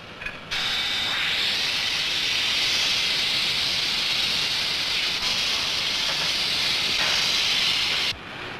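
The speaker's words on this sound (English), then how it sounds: "It is again sprayed, this time with a heat-resisting dressing." A foundry sand mould for a cylinder block is sprayed with heat-resisting dressing, making a loud, steady, close hiss that starts abruptly, runs for about seven seconds with slight flutters, then stops.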